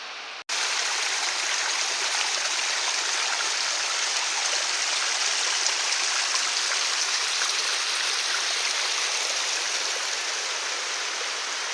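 A mountain stream pouring over rock in small waterfalls, a dense, steady rush of water that holds constant and close throughout, with no voices.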